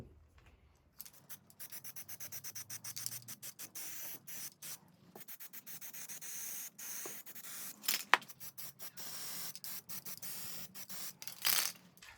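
Aerosol spray paint is applied to an RC car body for an old-school Blazer build on a TRX4 chassis, in many short hissing bursts, some quick and rhythmic, others longer, close to the microphone with no talking.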